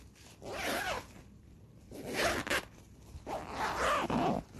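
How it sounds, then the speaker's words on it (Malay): A travel bag is zipped shut with three long, close zipper pulls, each a bright rasping sweep separated by short pauses. "Tengok macam ni saja, tutup, zip balik."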